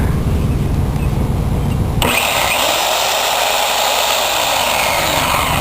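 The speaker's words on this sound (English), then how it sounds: "hooked up this little dinky ass chainsaw, electric chainsaw, to cut up all this little shit" A small electric chainsaw, powered through an inverter off a truck, whines steadily and loudly while cutting brush, kicking on abruptly after a couple of seconds of low rumble and running continuously without pause.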